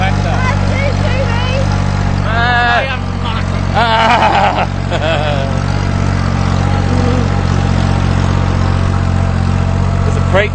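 A tractor engine drones steadily through a Christmas Day farm ride, a constant low rumble heard close up, with people talking over it and a few voices breaking in partway through.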